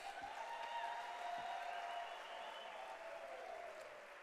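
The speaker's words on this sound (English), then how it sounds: "A louder round of applause." An audience at a national dialogue convention at UNISA in South Africa gives a round of applause, a dense, even wash of clapping that holds steady and then eases slightly, heard at a distance.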